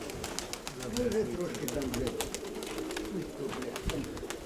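Pigeons cooing in low, murmuring bursts close by, with faint wing flutters and clicks, mixed with soft background voices throughout.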